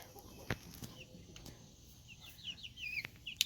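Several chickens in a coop, including Ameraucanas and a lavender Orpington, give faint scattered clucks and short calls over a quiet background, with a few sharp knocks.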